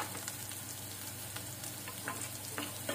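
Sliced onions and curry leaves fry in oil for Indori poha, a continuous close sizzle with light crackles and occasional stirring scrapes, no voices.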